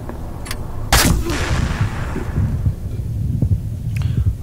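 Loud gunshot blasts in a first-person shooter game, with a heavy boom near one second and sharper cracks around it, over a rumbling, dense background.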